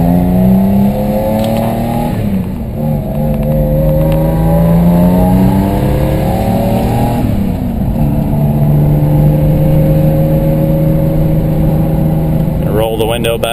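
A 1990 Isuzu Trooper with a 3-inch exhaust runs loud and steady in the cabin, its engine note climbing and falling through repeated revs and gear changes while someone talks over it.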